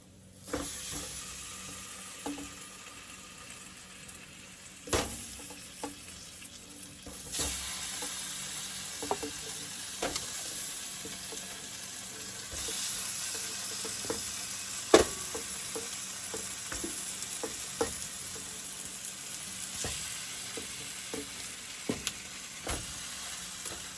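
Turkey wings sizzle and fry in a pot for a Jamaican curry, with a steady crackling hiss, stirring scrapes and occasional sharp utensil clicks throughout, and no talk.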